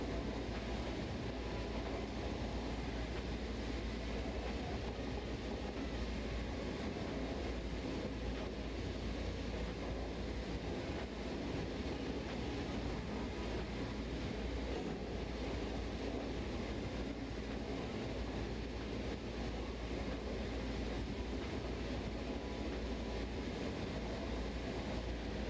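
A diesel locomotive in Train Sim World 4 drones along steadily for the whole stretch, a constant low engine rumble with rolling rail noise, even and unbroken with no speech.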